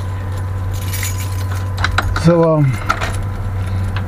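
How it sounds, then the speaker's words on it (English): A bunch of keys jangles in a short burst of metallic clinks over a low steady hum inside a Ford Crown Victoria, and a voice briefly speaks. "I got too many goddamn keys"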